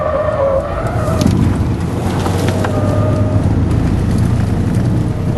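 Mahindra XUV500 SUV driven hard around the BIC F1 racing circuit, a steady loud engine and road roar with heavy wind buffeting on the microphone, continuous throughout with no talking.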